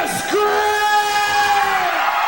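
A wrestling arena crowd cheers and screams loudly and steadily throughout, with a ringing sustained yell rising over the roar.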